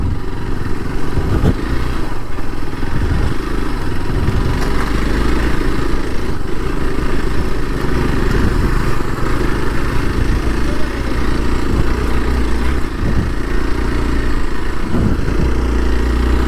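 A motorbike engine runs steadily and close on a rough off-road trail through the hills of Ramanagara, a continuous low mid-pitched drone with some rattling clatter as the bike jolts along, no voices over it.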